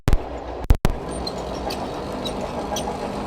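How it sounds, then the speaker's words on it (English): A heavy freight train passing near a blacksmith's smithy makes a loud, steady low rumble, with two sharp knocks close by near the start. "that's a loud train today."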